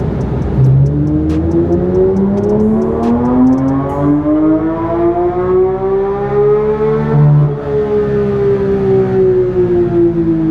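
A Porsche Sport Classic engine with a Gintani exhaust and tune, in track mode on a dyno, revs steadily upward in pitch, whining higher and higher for several seconds before easing back down.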